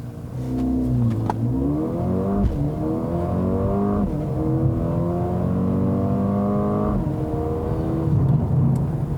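A 2020 Mercedes-AMG CLA 35 with 4MATIC all-wheel drive launches from a standstill in sport mode, its engine revving hard through several upshifts with rising then dropping pitch, loud and close from inside the car.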